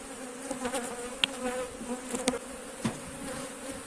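Steady insect buzzing from many honeybees around hive frames, a dense droning hum with a few brief louder passes close by.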